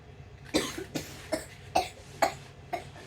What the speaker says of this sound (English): please, don't cough all over the food